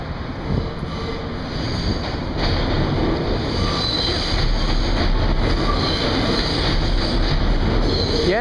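A New York City subway train rumbles past loudly and steadily, wheels grinding and squealing on the rails with a constant roaring hum.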